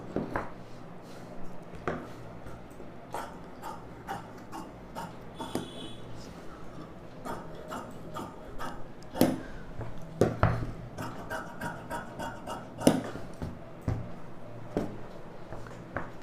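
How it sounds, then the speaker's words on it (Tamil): Scissors snip through lining fabric for a blouse, cutting from the shoulder, with scattered crisp clicks and soft rustles of cloth on a table, fairly quiet and irregular across the stretch. "இந்த ஷோல்டர்லேருந்து கட் பண்ணிக்கலாம்."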